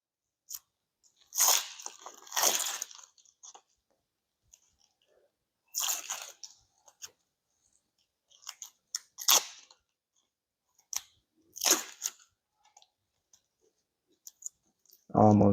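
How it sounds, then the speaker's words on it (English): Crisp, crackly bursts come close up as an onion's papery skin is peeled off and the onion is cut, in short clustered bouts separated by quiet gaps, with a few brief knife clicks. "cutting up an onion, removing the skin."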